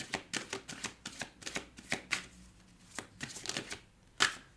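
Tarot cards being shuffled and drawn during a card reading, a run of rapid papery riffles and slaps, close and fairly soft, ending with a sharper snap as a card is pulled, no voices.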